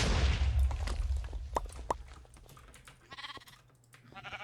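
Sheep bleat in a video game, a few short sharp cries rising over a rumbling, busy game mix with clicks and muffled thuds in the background.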